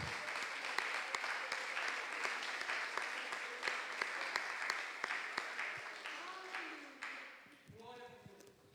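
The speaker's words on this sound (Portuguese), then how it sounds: "Vamos aplaudir ao Senhor?" A church congregation claps together at length, a dense steady patter that fades out near the end.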